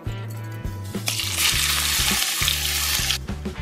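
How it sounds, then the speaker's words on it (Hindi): Whole spices and a generous pinch of asafoetida dropped into hot mustard oil, bursting into a loud, bright sizzle that swells and holds, while a spoon taps the pan rhythmically. "ये मस्टर्ड ऑयल गरम हो गया है, पहले डालेंगे सारे खारे मसाले और खूब सारा हींग।"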